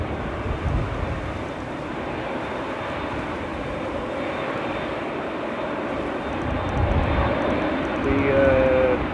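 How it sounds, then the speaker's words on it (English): A Ryanair airliner arriving at Manchester Airport from Palma de Mallorca, a steady broadband jet engine roar that grows slightly louder toward the end, heard at a distance outdoors. "So next in will be Ryanair from Palma de Mallorca"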